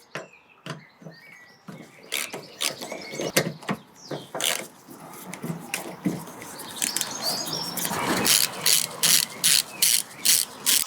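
Close, crisp ratchet clicks in short bursts while two 7mm bolts are undone during fuel line replacement on an MG TF, with birdsong chirping in the background.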